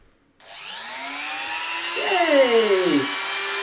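A handheld rotary craft tool spinning up after a bit is tightened in its chuck, a high whining motor that starts abruptly and holds steady, with a pitch dip and rise midway as it loads.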